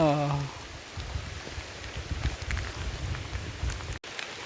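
Steady rain falls with a constant hiss, while a voice speaks briefly at the start and then fades under the downpour.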